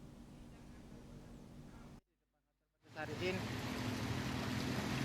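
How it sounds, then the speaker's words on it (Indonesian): Fast-flowing floodwater roars steadily across a road, briefly drops to near silence, then returns louder and fuller, like a fast current surging close by, in Pancasari village, Buleleng, Bali. "Sejumlah ruas jalan tampak tertutup air yang mengalir deras."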